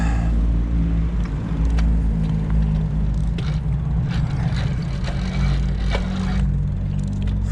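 A motorized bicycle engine fitted with new jets being cranked and coaxed to start, giving a loud, continuous low rumble with uneven sputtering throughout, close to the listener.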